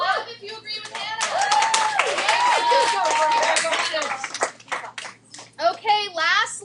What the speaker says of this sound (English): clap if you agree with Hannah